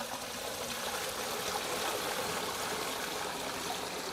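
Water runs steadily through a Bluworld GardenFall floor fountain after being switched on, a constant close trickle and splash with no voices.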